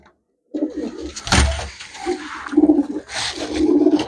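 Pigeons coo in a run of low, throaty calls at close range, several overlapping bursts after a short silence, with faint background noise.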